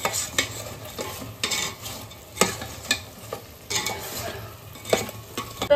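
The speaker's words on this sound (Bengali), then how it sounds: "এই শিরার মধ্যে সব ফেলে দিচ্ছি গরম অবস্থা।" Hot fried khaja pieces are dropped one after another into warm sugar syrup, making repeated close clatters and splashes with a faint sizzle and utensil clinks in between.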